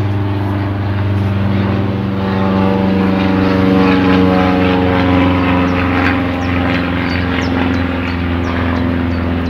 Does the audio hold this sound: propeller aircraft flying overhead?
yes